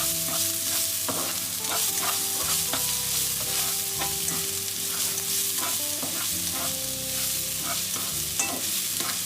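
Loud, continuous sizzling of garlic and shallots stir-frying in oil for nasi goreng, with constant spatula scraping and tapping against the pan over a dense frying hiss.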